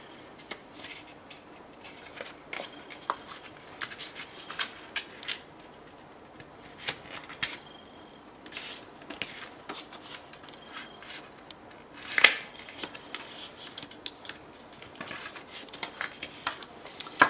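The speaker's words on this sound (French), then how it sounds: "une fois qu'on a le morceau, forcément, on va le plier en deux" A sheet of paper being folded in half for a junk journal envelope, with close, soft crinkling and crisp creasing rustles in scattered bursts, one sharper crackle partway through, no voices.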